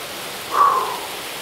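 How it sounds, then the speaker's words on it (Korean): Silpokpo waterfall on Naeyeonsan mountain gives a steady, even hiss of falling water, with one brief higher call cutting through it for a moment. "실폭포입니다."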